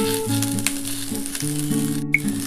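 Turmeric and salt frying in hot oil for a Bengali vegetable curry, a steady bright sizzle running throughout, close and fairly loud, with a low tonal hum underneath.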